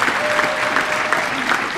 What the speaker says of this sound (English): So can you give him a round of applause?